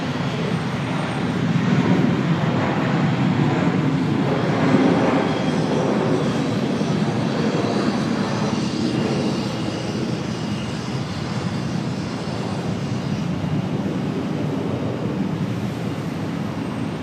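An airliner takes off from Charlotte airport's runway 18 right, its broad, steady jet roar holding loud and continuous throughout with no voices.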